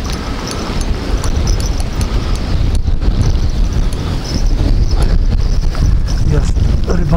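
Gusty wind roars steadily across the microphone while fishing, a constant low buffeting rumble with a few louder gusts.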